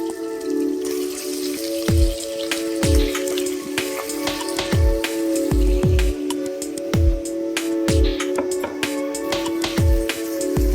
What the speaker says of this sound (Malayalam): അന്നേരം ഈ മട്ടൺ ഞാൻ ഇതിനകത്തോട്ട് ഇടുക